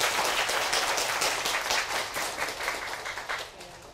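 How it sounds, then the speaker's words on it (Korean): Listeners at a university public lecture on Chinese literature applaud at the close, a warm burst of clapping that swells and then gradually thins and fades out. "우리 조교들에게도 뜨거운 박수 부탁드립니다"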